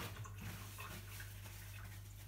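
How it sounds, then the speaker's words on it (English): Hands being washed under a running tap in a home kitchen while making potato and bulgur patties, a steady close wash of water that continues throughout over a low constant hum. "washing my hands."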